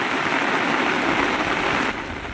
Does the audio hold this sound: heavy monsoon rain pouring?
yes